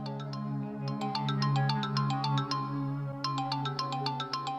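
A phone ringtone rings out, a chiming repeating melody over a held chordal backing, clear and close, playing on its own.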